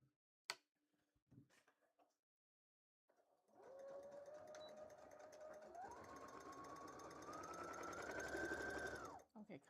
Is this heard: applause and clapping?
no